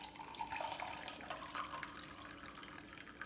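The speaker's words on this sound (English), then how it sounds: "so I'm going to pour it into cup directly" Brewed coffee, made for two people, poured straight into a cup, giving a steady close liquid stream that splashes and trickles without pause for a few seconds, with no talking.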